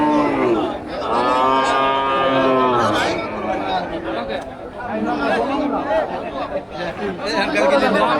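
At a crowded cattle market on the Bangladeshi border, cows low loudly and at length close by, with more distant moos through the bustle while people talk continuously around them.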